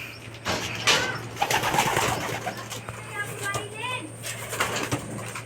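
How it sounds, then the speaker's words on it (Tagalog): Racing pigeons coo softly and repeatedly while drinking water at a loft during derby preparation, with someone talking over the birds nearby. "Nagsisiinuman na yan mga kalapatids."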